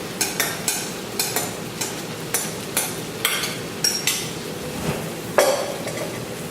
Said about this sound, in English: Mix it a little bit.